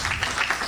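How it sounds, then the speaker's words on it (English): Applause from a conference audience fills the room as a steady, dense patter of many hands clapping close by, with no pauses. "I think we should give him another round of applause."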